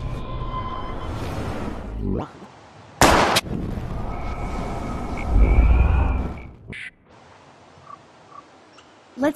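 Gunshots fired in the Life is Strange video game strike a rusty barrel, a few sharp loud bangs with metallic impacts among game ambience and music, spaced irregularly across the scene.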